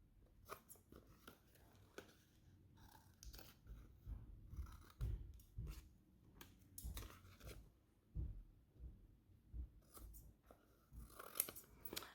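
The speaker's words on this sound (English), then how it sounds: "flip them over and trim off the excess paper" Scissors snip excess paper off craft tags in a series of quiet, irregular cuts with short pauses between them, close by and without talking.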